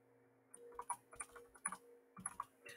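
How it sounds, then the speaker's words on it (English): Faint, irregular keystrokes on a computer keyboard while Boolean AND, OR and NOT terms are entered, a quick scattered run of light clicks over a low steady hum. "we're going to go ahead and type in Boolean AND"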